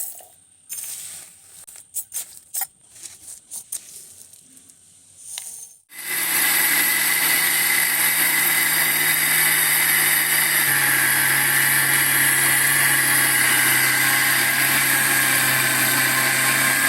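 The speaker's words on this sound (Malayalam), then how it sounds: "നമുക്കിതൊന്ന് ചൂടാക്കിയിട്ട് മിക്സിയിലിട്ട് അടിക്കാം." Roasted grains clatter and rattle in a mixer grinder jar with a few sharp clicks, then the motor starts and grinds them to powder with a loud, steady whine that shifts slightly in pitch partway through, near and continuous.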